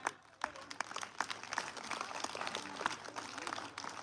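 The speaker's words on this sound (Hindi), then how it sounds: "आप तालियां बजाते हुए इनका स्वागत करते हुए निकले" Scattered clapping from a small group at an awards ceremony in Bikaner, moderately distant, continuing evenly for a few seconds.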